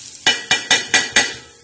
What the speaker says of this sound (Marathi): सर्वात प्रथम आपण काय तळणार आहोत, हे लाल तिखट तळणार आहोत